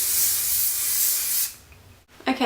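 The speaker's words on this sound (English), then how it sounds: "You can give your hair a little bit of a spray from far away" Hairspray hisses onto soft curled hair in a steady spray held from a distance, lasting about a second and a half before fading, followed by a brief rustle.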